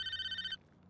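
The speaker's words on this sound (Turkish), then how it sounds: "Telefonu açayım ben." A phone rings with a bright electronic ringtone, a rapid pulsing tone that runs for about half a second and then cuts off, leaving quiet room noise.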